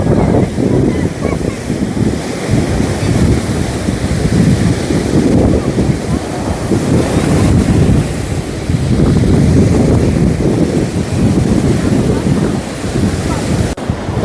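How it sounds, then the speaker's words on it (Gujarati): Surf rolls in continuously at Okha beach, loud and close, its swelling wash mixed with steady wind rumbling across the microphone. "જોઈ લો આ દરિયા દેવ."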